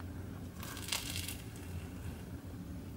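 A bite into a baguette filled with homemade egg and tuna salad gives a brief, close, quiet crunch of crust, followed by faint chewing.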